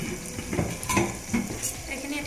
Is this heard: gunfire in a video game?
no